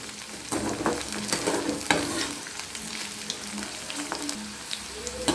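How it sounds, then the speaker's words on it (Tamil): Okra deep-fries in a generous amount of oil, giving a dense, crackling sizzle with intermittent scraping and stirring clatter, close and steady with no talk. "அதனால தான் எண்ணெயில் கொஞ்சம் அதிகமாக எண்ணெய் ஊற்றி பொறிச்சு எடுப்போம்"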